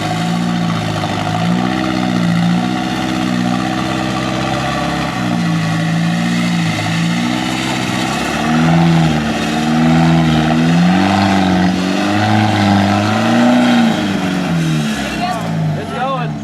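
An off-road vehicle on cheap tires, stuck in mud, revs its engine in steady rising and falling surges, loud and close throughout, while people talk over it.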